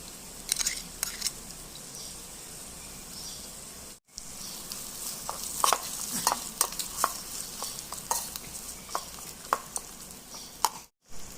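Ginger and garlic sizzle in a pan while a spoon stirs them, with repeated clinks and scrapes over a steady frying hiss, close up with no talking.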